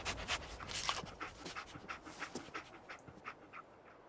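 The dog companion Dogmeat in the video game Fallout 4 pants in quick, steady breaths close by, with soft whimpery edges over a noisy game background.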